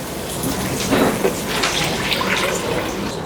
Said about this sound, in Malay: Okey, kita dah masukkan air.